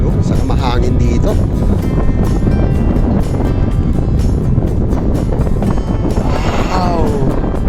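Strong gusts buffet the microphone on an exposed mountain view deck at Monte Cristo and Mt. Banoy, a loud, steady rush of wind throughout with people talking under it.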